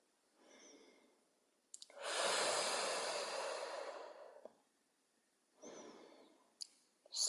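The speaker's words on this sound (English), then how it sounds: "breathe like Darth Vader breathe, yeah? Like an ocean breathing with the sound." Slow ujjayi ocean breathing during a yoga session: one long, loud, rushing breath is framed by softer, shorter breaths, all close and airy with no talk.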